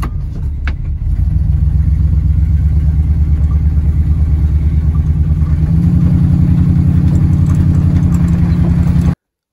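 A 1977 Dodge W100 Stepside pickup cranks briefly, then its engine catches and settles into a steady, loud, close idle with a smooth low rumble that holds until it is abruptly cut off.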